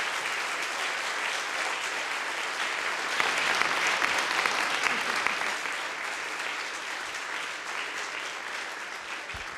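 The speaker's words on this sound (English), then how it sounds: "Please welcome him with big applause." A live audience claps steadily to welcome a guest professor, a dense, sustained burst of applause that swells slightly midway and then holds evenly without talk.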